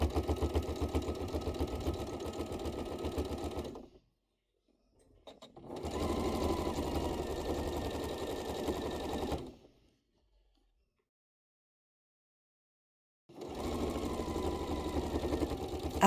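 A sewing machine stitches and backstitches a hoodie seam in three loud, steady bursts of rapid whirring, separated by short pauses.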